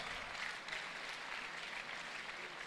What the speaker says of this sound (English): Those who would have 5 A's, 2 B's, put your hands together for yourself